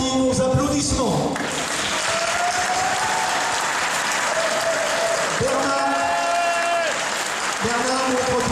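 An audience at a stage show applauds in a dense, sustained burst that lasts throughout, with a voice and tonal sounds briefly rising over the clapping.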